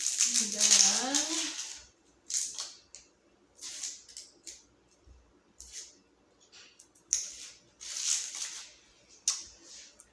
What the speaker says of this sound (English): And then I'm going to chop that just roughly again, cut that end off.